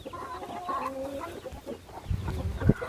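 Hens cluck softly in a steady patter with faint peeps from newly hatched chicks, then a few louder, closer clucks and rustles near the end.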